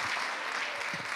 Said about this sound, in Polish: Więc brawa dla tych wszystkich,